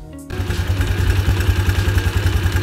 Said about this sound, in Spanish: vamos a prender la moto